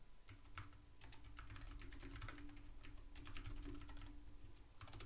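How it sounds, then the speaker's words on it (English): Rapid, steady keystrokes on a computer keyboard, close and fairly quiet, with light irregular clicks running continuously under a faint background hum. "That's me typing."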